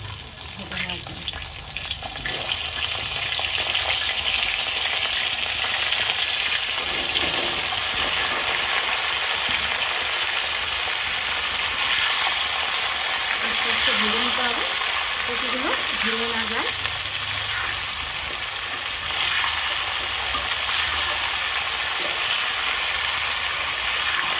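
Drained cauliflower for a coriander cauliflower dish hits a hot pan and fries with a loud, steady sizzle that holds for the whole stretch, broken by occasional stirring.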